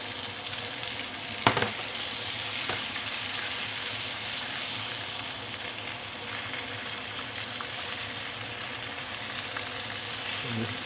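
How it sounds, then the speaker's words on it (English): Ikan keembung fish fry in a pan with a little oil, a steady close sizzle and crackle throughout, with a brief clatter early on. "So let's pan fry the first side for about 2 minutes"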